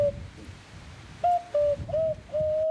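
A handmade wooden bird-call decoy from a workshop in Sorgues, Vaucluse, imitates birdsong with a series of short, pure, dove-like coos in an uneven rhythm, clear and close over quiet room noise.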